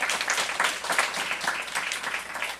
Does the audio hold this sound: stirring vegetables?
no